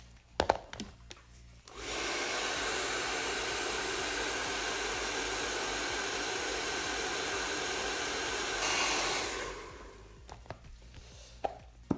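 Hair dryer switched on to dry a layer of eyebrow cover makeup, a loud steady close whoosh lasting about eight seconds, with brief handling clicks before and after.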